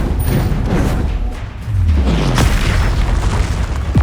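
An explosive Confringo blast spell from Hogwarts Legacy booms loudly during combat, with a deep, rumbling impact and a descending whoosh trailing off.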